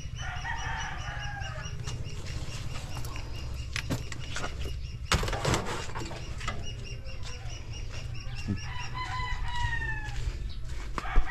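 Rhode Island chickens cluck steadily while a rooster crows several times, moderately close, with a low constant hum underneath and no talking.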